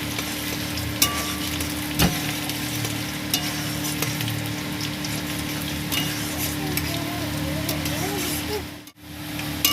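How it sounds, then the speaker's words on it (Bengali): Garlic with a little chopped ginger frying in a pan as it is gently stirred, a steady loud sizzle with occasional scrapes and taps, a constant background hum underneath. "হালকা করে নেড়ে নেব আমি রসুনটাকে।"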